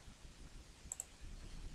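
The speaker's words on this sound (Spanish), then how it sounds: "Le vamos a dar clic." Two quick, quiet computer mouse clicks sound close together, a crisp double click in an otherwise near-silent room.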